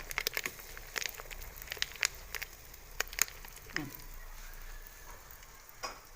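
Green curry paste fries in a pan with only a little oil, giving a soft crackling sizzle punctuated by sharp scraping and stirring clicks close by.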